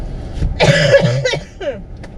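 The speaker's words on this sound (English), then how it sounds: "Let's have a good cough as well." A single close cough, harsh and broadband, followed by a shorter throat-clearing rasp, heard inside a quiet 2021 MG HS 1.5 petrol SUV.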